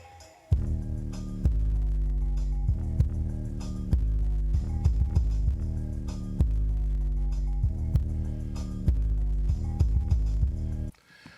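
Music plays through a cheap car audio subwoofer cone fitted as a replacement in a home theater speaker, giving loud, deep, throbbing bass pulses in a steady rhythm that stop abruptly at the end.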